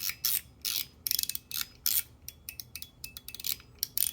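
Fidget slider toy sliding back and forth, producing a run of quick metallic clicks and small dings in irregular bursts, close and fairly quiet with no voices.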